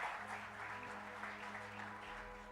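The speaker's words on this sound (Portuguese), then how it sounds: "dê um forte aplauso ao Senhor" A church congregation at an evening celebration service applauds, producing a faint, distant, continuous wash of clapping over a low steady hum.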